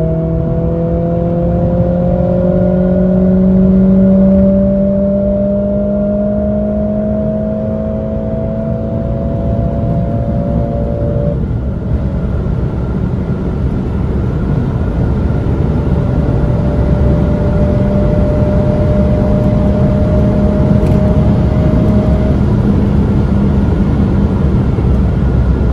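A Mercedes CLA45S AMG at high speed on an autobahn, its engine pitch rising steadily under a loud, constant roar of wind and road noise heard from inside the car, with a brief drop as a gear changes.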